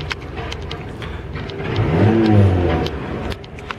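A VAZ 1.6 8-valve car engine fitted with a 56 mm throttle body revs up loudly nearby, rising to a strong roar in the middle before settling back, with some clicks and rattles around it.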